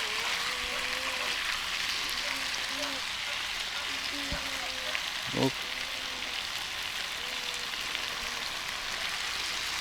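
Potatoes fry on a sadzh pan outdoors, giving a steady soft sizzle and crackle throughout, with a few faint tonal sounds and a brief sharp knock in the middle.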